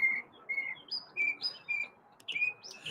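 Small bird chirping loudly just over the shoulder outdoors in the morning, a rapid series of short high tweets in uneven bursts, close and distinct against quiet background.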